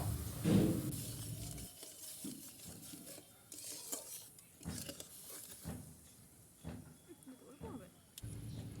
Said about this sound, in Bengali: এবারে গুড় আর জলের মিশ্রণকে নাড়তে থাকবো, বেশ কিছুক্ষণ নাড়বো